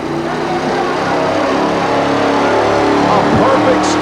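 A big blue fuel-injected Chevrolet 4WD pickup pulls a weight at a truck pull in Saint Paul, Minnesota, its engine roaring loud and constant throughout under the crowd's noise.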